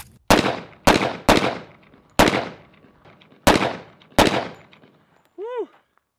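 A Double Barrel 1911 pistol fires six loud, sharp shots at uneven intervals, each crack followed by a short ringing decay, and a brief metallic ping comes after the last shot.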